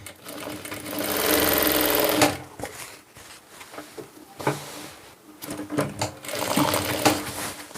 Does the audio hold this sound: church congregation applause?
no